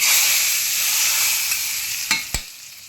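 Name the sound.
tempering spices sizzling in oil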